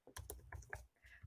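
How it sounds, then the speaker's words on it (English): Typing on a computer keyboard, a short burst of several close, crisp key clicks in an uneven rhythm with a brief pause before the last few strokes. "let's type here"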